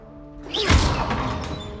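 Incendio fire spell cast in Hogwarts Legacy: a sudden whooshing burst with a low thump, followed by a sustained roaring crackle, close and loud.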